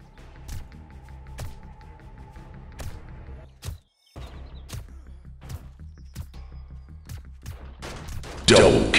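Scattered single gunshots in a 7 Days to Die PvP match: sharp separate cracks spaced irregularly over several seconds amid softer thuds and footsteps, with a brief silent gap and a loud burst at the end.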